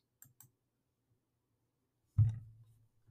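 A computer mouse clicked on a link: two faint light clicks, then a single louder, close click with a short low thud trailing off, in an otherwise quiet room.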